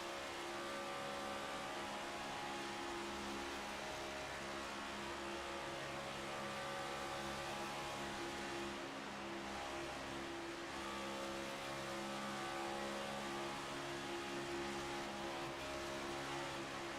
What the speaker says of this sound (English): On board with Shogun as he gets passed by a couple of cars here.